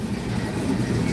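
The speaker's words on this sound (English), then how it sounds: "So right now we're just waiting for this train to pass." A Norfolk Southern train rumbles past close by, a steady low roll with faint rhythmic clatter from the cars.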